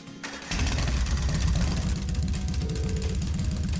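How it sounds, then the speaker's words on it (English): An orbal bike engine in the Tales of Cold Steel video game starts up and settles into a loud, steady, low rumbling idle that continues throughout. "First, starting up the engine."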